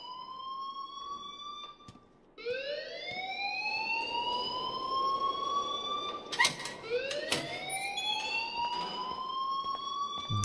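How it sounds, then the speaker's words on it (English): A fire alarm in the game Life is Strange wails in rising electronic sweeps, one long tone then repeated upward glides, loud and close with a brief gap, with no voices. "please turn off that alarm since that's your job"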